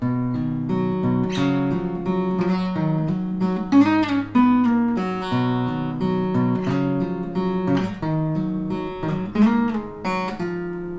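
A close acoustic guitar is fingerpicked in a flowing, repeating pattern, bass notes alternating with higher plucked strings at an even rhythm.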